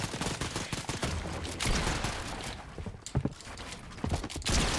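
Rapid bursts of gunfire in the video game Fortnite, played on PS4, with sharp repeated shots crackling loudly through most of the stretch and clustering around the middle and end.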